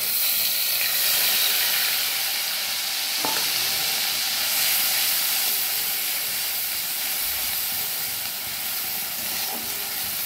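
Onion paste fries in hot oil for a koi fish curry with a steady, fairly quiet sizzle and hiss. A few faint clinks or stirs interrupt it, and no one speaks.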